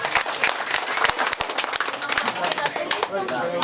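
A church congregation breaks into loud, dense applause during a service, sharp individual claps piling into a steady ovation that carries on with voices mixed in.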